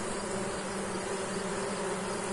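A dense, steady buzzing of many honey bees at Kenya top bar hives fills the air, close and continuous without a break.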